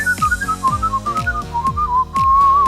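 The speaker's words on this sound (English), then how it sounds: "walk around blowing the whistle to remind people of the terrifying winds that blow through the underworld" A shrill, wavering whistle slides up and down in pitch like howling wind, over a plucked, repeating accompaniment.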